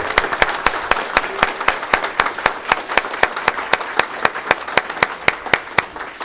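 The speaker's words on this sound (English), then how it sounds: "A great big round of applause to our chair of this wonderful presentation for Patriots Day" A seated audience at a Patriots Day presentation for a Bradenton Kiwanis gathering claps steadily for the event's chair, a dense run of sharp, fairly even hand claps sustained throughout, moderately loud and close, with no talking over it.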